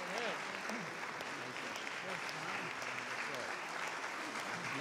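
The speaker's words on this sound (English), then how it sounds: "Yes, you've already got a standing ovation." A standing ovation for Mason Williams fills an Oklahoma venue, with steady, dense applause from a large crowd heard throughout, and scattered voices murmuring beneath the clapping.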